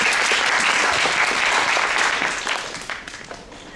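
Audience applause welcoming a speaker to the lectern at an academic presentation session on baseball pitch sequencing. Loud, dense clapping is sustained, then fades and thins out in the last second.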